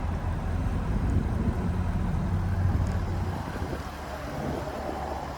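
Steady wind buffets the microphone outdoors beside a 2024 Jaguar F-Type P450 R Dynamic with a 5-liter supercharged V8, a loud continuous low rumble that fades a little near the end, with no talking.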